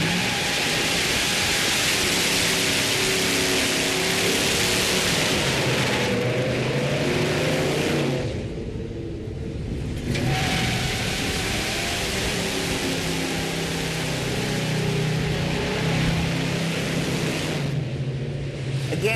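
An automatic muscle car does a burnout with its tires spinning, a loud, sustained roar of engine and tire hiss that dips briefly before surging again, close and continuous.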